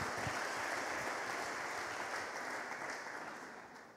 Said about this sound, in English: thank you for that lousy hand clap.